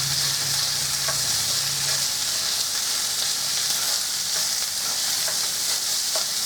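Ground sausage frying in a pan gives a loud, even, continuous sizzle, with faint scrapes as the meat is broken up.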